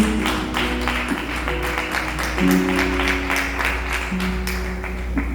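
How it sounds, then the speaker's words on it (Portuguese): Church congregation claps in a steady scattered rhythm over sustained organ or keyboard tones, moderately loud, with no voices on top. "Dê a sua melhor salva de palmas para Jesus."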